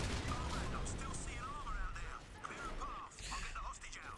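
Dense combat from Crysis Remastered: gunfire and explosions crackle and boom continuously, bursts of shots layered over a rumbling low end, with a few heavier crashes toward the end.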